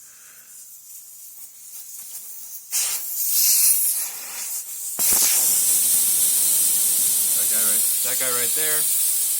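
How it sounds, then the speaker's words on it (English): Air rushes out of a car tire's valve stem after the valve core is unscrewed: a sudden loud, sustained hiss that starts partway through and holds steady, following quieter handling noises, with someone briefly talking. "that'll undo the little valve core inside the stem and deflate the tire"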